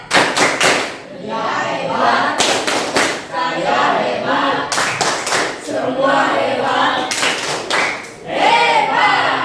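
A school class performs a rhythmic group clap routine, sharp synchronized claps in quick patterned bursts that recur between stretches of children's voices chanting along.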